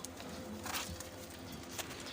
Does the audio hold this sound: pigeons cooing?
yes